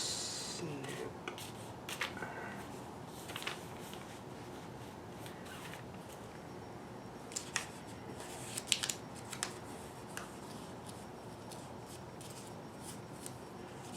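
Scissors making small snips in sock fabric, producing faint, close, sparse clicks and cuts scattered among quiet rustling of cloth.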